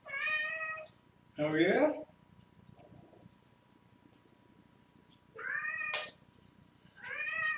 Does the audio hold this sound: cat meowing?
yes